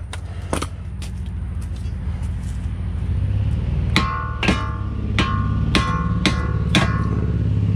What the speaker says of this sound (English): Give me a big hammer right there, Kuvaldo.